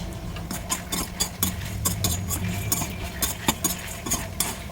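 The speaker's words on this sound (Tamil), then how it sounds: "நல்லா கிளறி விட்டுடலாம்." A spoon stirs a tamarind kuzhambu mixture in a cooking pot, giving repeated clinking scrapes in an uneven rhythm over a steady low hum, close and fairly loud, with no talking.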